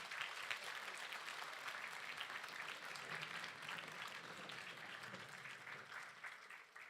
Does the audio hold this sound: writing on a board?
no